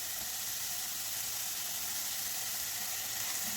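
Crushed ginger and garlic fry in a hot pan as a steady, even sizzle and hiss, continuous and close with no breaks and no talking.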